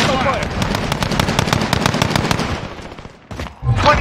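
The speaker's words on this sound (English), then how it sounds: "Under hostile fire." Rapid automatic gunfire rattles in Call of Duty Modern Warfare: Warzone, a loud, dense stream of evenly spaced shots that breaks off near the end, followed by a short final burst.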